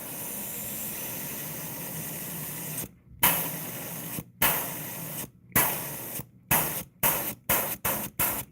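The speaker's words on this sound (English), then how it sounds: "I was honestly just airbrushing just to get some of these lures out of the way." Airbrush spraying paint onto fishing lures, including a juvenile rainbow trout pattern: a steady loud hiss runs continuously, then breaks into a series of short bursts with silent gaps, growing quicker toward the end.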